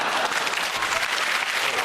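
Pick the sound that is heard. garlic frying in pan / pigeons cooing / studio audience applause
studio audience applause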